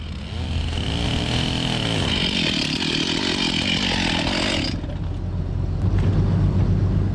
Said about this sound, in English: just lopped off that chunk of iron sick oak there where the fastener was